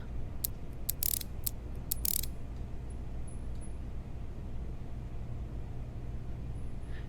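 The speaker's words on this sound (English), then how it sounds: "Move a ratchet key to the low side service valve and backseat it." A ratchet key turns on the low side service valve of a refrigeration system, giving a few quick clicking ratchet strokes early on over a steady low mechanical hum that continues alone.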